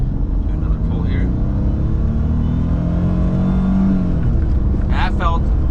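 A high-mileage supercharged V6 Mercedes-AMG C32 pulls hard under full acceleration, a loud close engine drone rising steadily in pitch inside the cabin, with a brief voice near the end.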